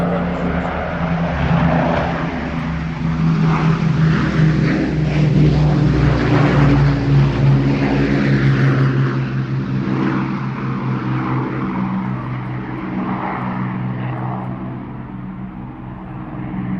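Loud, steady droning roar of a propeller plane passing nearby at an air show near Stratford-upon-Avon, deep engine hum with shifting pitch as it flies over, swelling and slowly easing.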